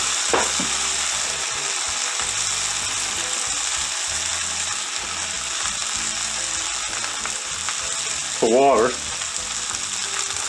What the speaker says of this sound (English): pretty good sear going on this meat now